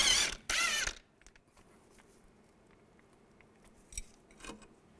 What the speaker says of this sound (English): I'm going to use a 15mm socket and a 15mm wrench.